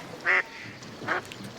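Ducks in the Danube Delta near Sulina give two short, nasal quacks about a second apart, fairly close and clear over a quiet outdoor background.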